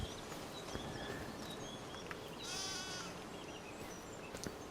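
Goats bleat in a Farming Simulator 25 farm setting, a brief wavering call around the middle over a steady, dense background of game ambience, with a few faint clicks scattered through.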